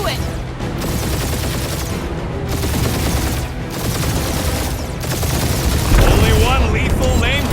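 Continuous heavy gunfire in Marvel's Guardians of the Galaxy, a loud, dense fusillade of rapid shots with booming impacts that runs throughout, with characters talking over it.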